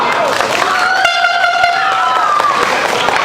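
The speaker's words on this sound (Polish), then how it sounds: "I za chwilę, mam nadzieję, brawa!" Crowd applause at the opening of an international street theatre festival, outdoor clapping and cheering under a loud sustained horn-like tone, continuous and fairly close.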